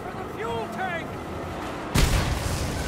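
A shotgun blast in the Mad Max video game, a single sudden loud boom cutting in near the end after quieter in-game sounds and talk.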